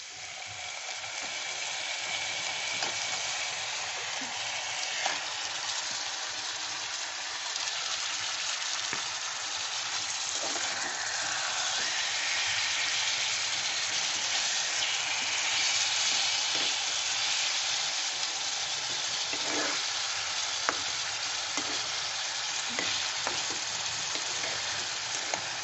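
Chicken pieces with garlic fry in a pan for murgi bhuna, producing a loud, continuous hiss and crackle close up, with occasional clinks and stirring scrapes.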